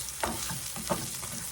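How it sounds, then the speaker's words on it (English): Rice and onion fry in a pan, giving a continuous close sizzle broken by two brief stirring scrapes. "I want that onion to kind of sort of get a little bit of a jump on it before I start browning my rice."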